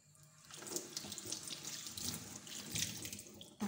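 A tap runs steadily into a sink while an aloe vera leaf is washed under it, a soft and fairly faint rush of water with light splashing.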